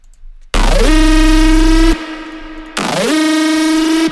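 A loud electronic drum and bass synth bassline with its sub bass muted, bright harmonic tones playing in two bursts separated by a short gap, with a gliding pitch at the start of each.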